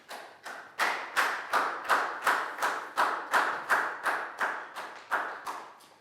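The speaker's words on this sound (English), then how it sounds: "big round of applause for Bangpon" A primary school class claps for a pupil during a maths lesson in a steady rhythmic unison, around fifteen sharp claps in even succession, close and clear with no speech.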